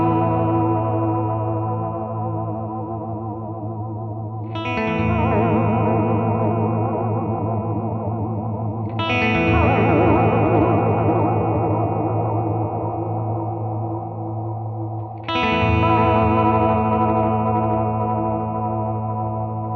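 Electric guitar chords ring through a Red Witch Apothecary delay pedal set to faster modulation, each of three strums swelling into warbling, chorus-like repeats that shimmer and sustain, loud and alone.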